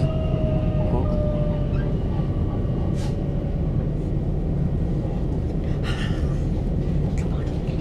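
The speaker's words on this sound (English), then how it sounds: "Auckland's light railway train." A light railway train runs with a constant loud rumble and rattle from on board, with faint squeals and brief higher clanks along the way.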